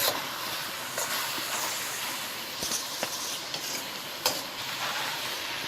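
Green chillies frying in a pan for chicken fried rice, a steady close hiss and sizzle with a few sharp stirring clicks and scrapes, and no voices.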